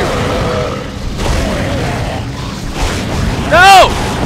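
Gunfire in the video game Dead Space, a few dull booming shots blended with game ambience and a voice, ending in a brief bright metallic ringing burst.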